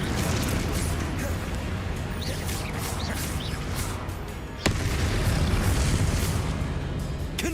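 A Confringo spell explosion rumbles through a Harry Potter video game amid dense, continuous battle noise, with one sharp, loud crack partway through.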